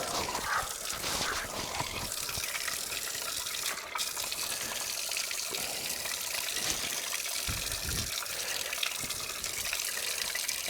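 Fresh, cold water runs steadily from a small fountain in a renovated Portuguese village, a constant close splashing and trickling with no talk.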